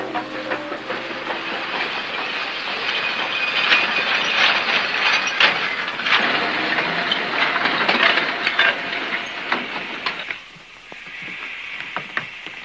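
A train pulls in, in a 1939 Death Valley western setting, with steady rumbling, hissing and clattering rail noise throughout, loud and close, easing off near the end.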